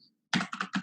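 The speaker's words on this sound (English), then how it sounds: "let's go ahead and type into our URL bar here" Keys tapped quickly on a computer keyboard while a URL is entered, a short run of close, crisp clicks after a moment of near silence.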